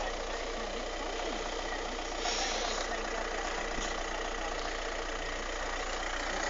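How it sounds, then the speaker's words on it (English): A VW Passat TDI diesel engine idles steadily with a continuous mid-range rumble and a faint knocking texture, fairly close and constant throughout, with a brief small rise in level partway through. "There you go, there's the engine."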